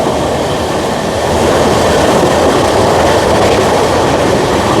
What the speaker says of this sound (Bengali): আমাদের অমৃত ভারত এক্সপ্রেস ফ্ল্যাট 110-এ পার করছে মেন লাইনের পান্ডুয়া স্টেশন